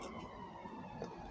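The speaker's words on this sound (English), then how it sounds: "You can hear the sirens in the background." Faint emergency sirens wail far off in the background, a low, steady, continuous wash behind windy outdoor ambience.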